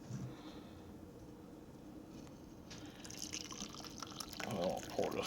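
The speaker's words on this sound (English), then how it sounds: "I'll pour this cup of coffee here." Coffee pours into a cup nearby, starting faint under low background noise and swelling into a brighter, splashing stream of liquid over the last couple of seconds.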